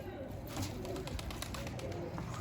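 Pigeons coo softly and repeatedly at close range, their low throaty calls rolling over faint background noise.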